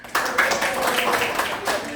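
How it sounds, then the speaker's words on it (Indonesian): A class of fourth-grade pupils claps their hands together in a classroom, a short burst of fairly close, uneven clapping that starts suddenly and carries on for nearly two seconds. "Tepuk tangan kita semua."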